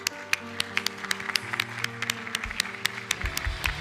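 A church congregation claps in a steady rhythm over music during a worship service, with sharp, evenly spaced claps from the group.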